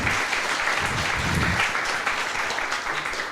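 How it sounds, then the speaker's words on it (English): An audience at a startup intellectual property talk breaks into sustained clapping that holds at a steady level for several seconds, then thins slightly toward the end. "Let's give her a big round of applause."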